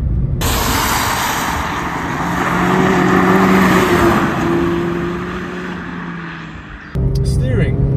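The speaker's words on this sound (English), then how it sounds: "that little peppy 4-cylinder tone" Four-cylinder engine of a Mazda MX-5 RF Sport hums steadily from inside the cabin while driving, a broad road-and-engine drone with a slowly rising tone that swells mid-clip, then cuts to a different, thinner sound near the end.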